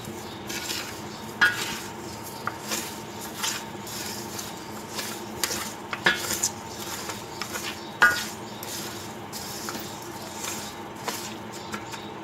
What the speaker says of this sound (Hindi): ये सारे मसाले अब मैं मिक्स कर लूँगी।